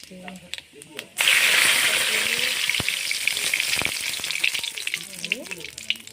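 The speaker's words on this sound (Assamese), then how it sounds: "তেল গৰম হৈ গ'ল ইয়াত এতিয়া মই পাঁচফোৰণ দিম দিলোঁ" Panch phoron spices hit hot oil and burst into a loud, sudden sizzle that keeps crackling steadily, with a voice talking briefly before and after.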